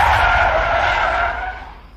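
A car's tires skid hard to a sudden stop, a loud, steady squeal that fades toward the end, heard alone with no talk.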